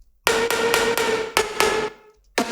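Bright synth pluck lead from Ableton Simpler played dry with no reverb, a punchy rhythmic phrase of sharp repeated notes with clean cutoffs and short silent gaps.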